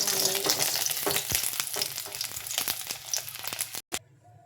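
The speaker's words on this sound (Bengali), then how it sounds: "আমার ডিম ভাজি হয়ে গেছে, এখন নামিয়ে নেব।" Eggs frying in oil in a pan, a dense close crackling sizzle with a few scraping stirs, ending with an abrupt knock before it cuts off.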